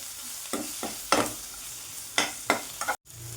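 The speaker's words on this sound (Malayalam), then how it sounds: "നല്ലോണം എല്ലായിടത്തും ഇളക്കിയിട്ടൊന്ന് പിടിക്കട്ടെ" Masala being stirred in a frying pan, with a handful of scraping, sizzling strokes at an irregular pace, close and fairly loud over a low background sizzle, ending with a brief thump.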